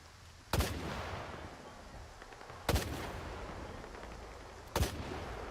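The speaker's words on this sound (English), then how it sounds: "Wait, I gotta shoot this guy." Three heavy, booming gunshots in the video game S.T.A.L.K.E.R. 2, spaced about two seconds apart, each with a long rumbling tail over low background noise.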